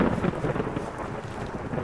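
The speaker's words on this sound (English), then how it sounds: "before this storm really hits" Thunderstorm in the survival game Vintage Story, with a steady roar of rain and low rolling thunder filling the whole stretch at moderate loudness, no voices present.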